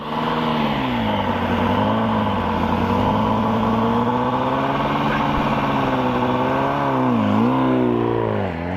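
A 2004 Yamaha R1 sport motorcycle revs hard and steadily for a race start, holding a loud, close, rising-and-falling engine whine with a brief dip and surge near the end, and no voices.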